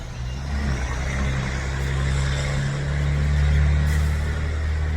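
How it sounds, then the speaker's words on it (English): A very loud truck with air brakes at the South By Southwest festival: a deep, steady engine rumble that swells slightly toward the middle and stays close and dominant for the whole stretch. "very loud truck."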